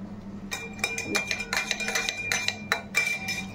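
A spoon stirs honey into hot water in a glass, making a quick run of bright, close clinks and taps against the glass, roughly a dozen irregular strikes over a low background.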